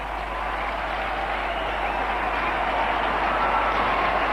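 Cricket stadium crowd roaring for Sachin Tendulkar's century during the 1998 India versus Kenya Coca-Cola final, a sustained, far-off swell of cheering and clapping that holds steady throughout.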